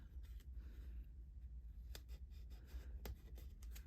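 Scissors snip through tape in a quiet craft setting: a few faint, close cuts and crisp clicks, two sharper snips standing out, with no talking.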